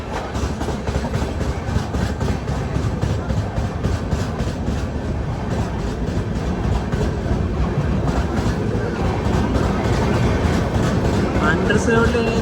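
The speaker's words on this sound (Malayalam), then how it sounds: "ട്രെയിൻ ഇപ്പോൾ തിൽജ നിയോറ എന്ന് പറഞ്ഞിട്ടുള്ളൊരു റെയിൽവേ സ്റ്റേഷനിലേക്ക് ഇത് എത്തിക്കൊണ്ടിരിക്കുകയാണ്." The Chhattisgarh Express runs on the rails between Raipur and Bilaspur as it nears Tilda Neora station, a loud, steady rumble with regular wheel clacks that continues throughout.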